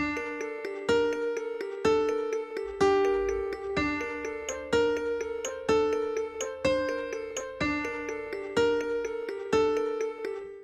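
A bell-like synth plays a quick repeating melody of fast notes over a slower, steady bass line, clean and moderately quiet.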